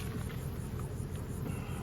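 Honey bees buzzing around an open single-brood-chamber hive, a steady low hum filling the whole moment without pause, joined by a faint high whine and no talking.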